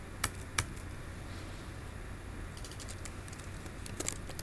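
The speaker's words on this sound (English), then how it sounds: "Having problems typing." A computer keyboard being typed on during a software modelling walkthrough: a handful of sparse, faint keystrokes scattered across a quiet room, with no talking.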